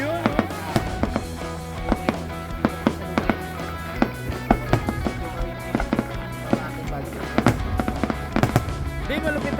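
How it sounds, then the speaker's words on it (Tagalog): Canada Day fireworks go off in a rapid, uneven series of sharp bangs and crackles over a steady background rumble, while people talk nearby. "Mga fireworks talagang datingan eh"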